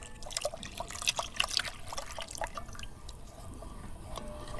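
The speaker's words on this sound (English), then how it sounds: "I'm going to add the rest of the coconut milk" Coconut milk pours into a cooking pot in a home kitchen, giving a quiet, steady trickle with scattered drips and splashes, no voices.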